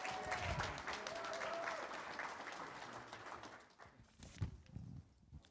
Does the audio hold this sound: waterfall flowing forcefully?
no